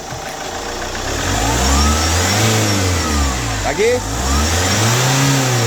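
A Chevrolet Captiva diesel with a hard-starting problem revs through a couple of rising and falling throttle blips over a steady idle, loud and close, while someone speaks briefly.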